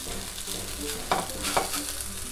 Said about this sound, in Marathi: थोडंसं भाजलं की आपण हे परतून घ्यायचं